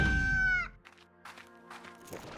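A chicken in the video game Slime Rancher gives a loud, drawn-out crowing call up close, then softer scattered clucks and chirps follow against a quiet background.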